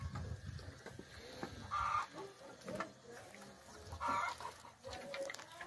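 A hen clucking after laying on a rural smallholding, a few close bursts of cackling calls spaced a couple of seconds apart over faint outdoor background.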